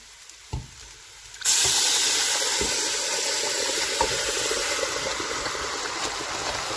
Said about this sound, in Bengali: তো মাংস ঢেলে দিলাম আমরা, এবার একটু নেড়ে চেড়ে দেওয়া যাক।